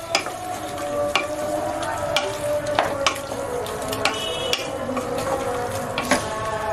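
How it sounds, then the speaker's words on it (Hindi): Potato and cluster bean sabzi sizzles steadily in an open pressure cooker while a utensil scrapes and clinks against the metal every second or so, close up and without speech. "मैंने इसे कुकर का ढक्कन खोल के बस 2 मिनट और पकाना है भून के"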